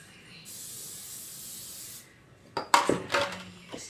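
Cooking spray hisses into a cake pan in one steady burst of about a second and a half, followed by clattering handling noises and faint voices.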